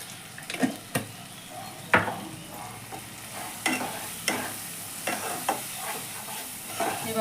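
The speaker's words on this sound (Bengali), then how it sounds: "এবার এটাকে যতক্ষণ আবার তেল না ছেড়ে আসছে ততক্ষণ একটু সুন্দরভাবে কষে নেব।" Egg masala is stir-fried in oil for a Bangladeshi egg dish, a close, steady sizzle broken by repeated scraping strokes of a spatula against the pan at an irregular pace, with no talking.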